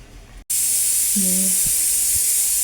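A pressure cooker of lentils on a home kitchen stove lets off steam: after a brief pause, a loud, steady hiss starts abruptly and holds, with a short whistling tone rising over it.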